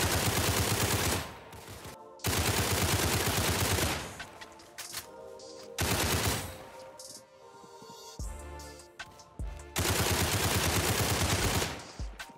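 A gun in the video game Criminality fires several long, loud bursts of rapid automatic shots, separated by short quieter gaps, with no talk.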